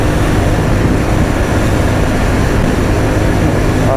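Kawasaki CT125 motorcycle engine while riding fast downhill, a loud, continuous droning roar blended with heavy wind rush, with no voices.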